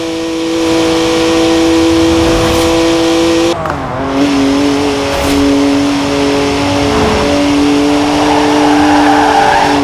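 A BMW in the Forza Horizon 4 racing game roars loudly and continuously at high revs, with a sharp gear shift partway through before the engine climbs again.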